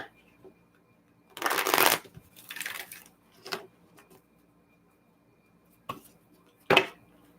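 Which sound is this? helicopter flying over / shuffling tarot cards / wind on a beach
shuffling tarot cards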